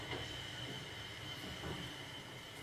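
Inside a moving train car, a steady rumble of wheels on rails runs throughout with a faint high squeal, constant and enveloping, with no one talking.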